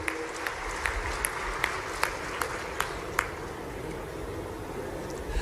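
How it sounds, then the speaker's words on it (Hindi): A crowd at a rally applauds the Prime Minister, sustained even clapping with light scattered peaks throughout, under a faint voice. "जोरदार ताली बजाओ यशस्वी प्रधानमंत्री के लिए"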